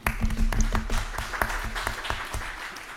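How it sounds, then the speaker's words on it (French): Applause from a conference audience at a green finance session, with distinct nearby claps standing out over a thinner crowd that fades toward the end. "Je pense qu'on peut applaudir."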